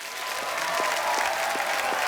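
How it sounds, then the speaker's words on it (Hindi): A studio audience on a comedy talk show bursts into applause, a dense, steady wash of clapping with a few sharper individual claps, heard alone and fairly loud. "एक एक फिल्म पे तालियां बनती हैं।"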